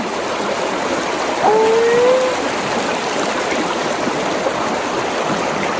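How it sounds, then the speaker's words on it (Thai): Forest waterfall rushing in a steady, dense roar close by, unbroken for the whole stretch, with a faint bird call briefly rising above it. "ฟังเสียงน้ำตก"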